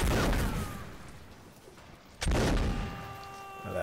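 Musket fire in the video game Mount & Blade: Napoleonic Wars: a loud, sharp shot bursts out midway, with an earlier report fading at the start over a noisy battlefield background.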